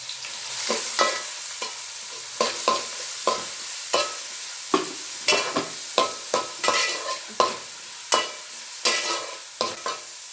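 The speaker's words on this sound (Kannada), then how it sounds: "ಈರುಳ್ಳಿ ಬಣ್ಣ ಚೇಂಜ್ ಆಗೋ ತನಕ ಚೆನ್ನಾಗಿ ಎಣ್ಣೆನಲ್ಲಿ ಫ್ರೈ ಮಾಡೋಣ" Finely chopped onions with green chillies fry in oil for chole masala, a crackling sizzle broken by regular, close scraping strokes of a spoon stirring the pan, roughly two per second, with no voice.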